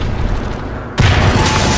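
A grenade goes off in the video game Wolfenstein: The New Order. A sudden loud, close blast cuts through the steady background and leaves a rumbling roar ringing on afterwards.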